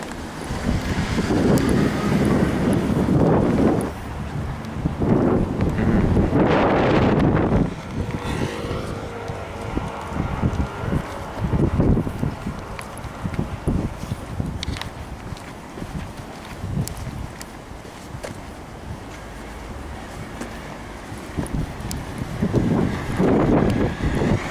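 Wind gusting on a spring walk along a river, loud buffeting rumble against the microphone in strong bursts, easing to a softer steady blow with occasional renewed gusts.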